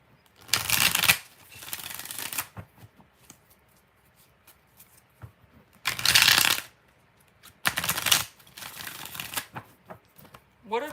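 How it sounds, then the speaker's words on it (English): Tarot cards are riffle-shuffled in three distinct bursts, each a crisp, close flutter lasting under a second, separated by quieter stretches of soft handling noise and faint room sounds. "2 more shuffles for Sarah."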